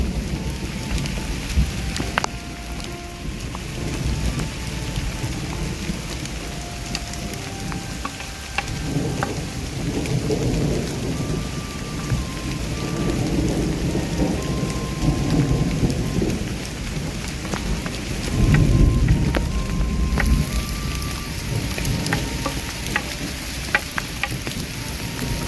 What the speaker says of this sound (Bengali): প্রচন্ড জোরে জোরে মেঘ ডাকছে আর শিলাবৃষ্টি হচ্ছে